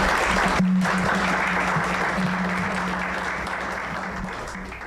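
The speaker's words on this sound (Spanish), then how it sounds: "les suplico que lo recibamos con un aplauso" An audience at a formal environmental lecture applauds to welcome a speaker, steady sustained clapping filling the room and slowly fading over several seconds, with a faint low hum underneath.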